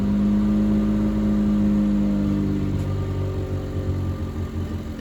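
A Camry engine idles roughly on a cold start in a hard freeze while a faulty idle air control valve makes the revs surge, a loud steady drone and hum close by that shifts in pitch as it rises and settles, with no talking.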